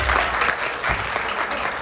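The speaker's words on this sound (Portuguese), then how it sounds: "Perfeito, palmas." Applause from an audience at a civil engineering talk, a steady dense patter of many hands clapping continuously throughout without pause.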